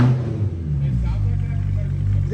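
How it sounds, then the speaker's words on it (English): A BMW E92 M3 fitted with a Bomiz valved exhaust, tips removed, rumbles loudly and steadily up close in a deep, slightly trumpety idle-to-rev drone, with people talking over it. "So it sounds a little trumpety right now because the tips are not on the car."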